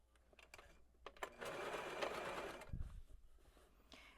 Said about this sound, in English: I would just stitch it right next to this stitch, like this, and make sure that everything is nice and flat underneath